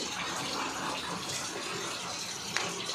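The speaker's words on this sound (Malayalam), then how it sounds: "നല്ല മഴ പെയ്യുന്നൊരു സമയമായിരുന്നു." Heavy rain pours down outdoors while leaves are being picked, a dense, loud, continuous rushing wash of water with no pauses.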